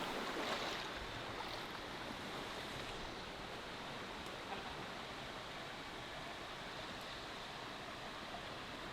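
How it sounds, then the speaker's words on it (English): A forest stream at Minister Creek in Pennsylvania rushes steadily and fairly close, a broad, constant wash of flowing water with no voices over it. "We took turns with the flip-flops as we crossed the stream."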